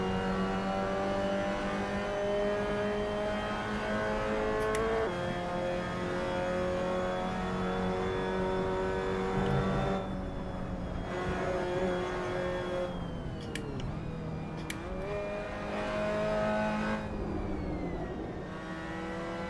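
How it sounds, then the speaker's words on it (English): A Mazda MX-5 Cup race car engine at Silverstone in a VR racing game, droning steadily and then revving up and down through downshifts and corner entries, close and continuous with no talk. "Downshifting into third, which feels very high revving as I enter that turn"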